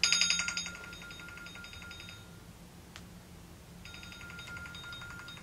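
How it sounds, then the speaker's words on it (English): An iPhone 11 ringing with an incoming phone call, a repeating electronic tone pattern that starts loud, pauses, then resumes more softly, with no talking. "Getting a phone call."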